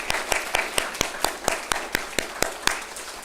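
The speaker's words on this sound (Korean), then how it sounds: "박수로 하나님께." A congregation at a Korean Sunday church service claps in unison, steady rhythmic claps about four per second, moderately loud and close over a soft room background.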